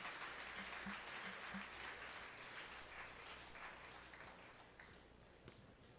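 An audience claps after CodeDay project pitches, a sustained burst of dense applause that stays fairly even, then thins slightly toward the end, heard from within the room at moderate level.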